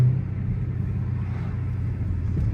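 A 1000hp hoodless Dodge Demon 170 Charger cruises along a narrow road, its engine a low, fairly quiet rumble heard from inside, steady with slight swells and no talking.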